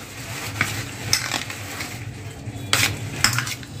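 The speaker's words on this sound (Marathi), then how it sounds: "पनीरला सगळं असं मिक्स करून घेऊया." Paneer is mixed into masala in a pan, with a low sizzle underneath and several sharp clinks and scrapes of a spoon against the pan at irregular intervals, close by and without talk.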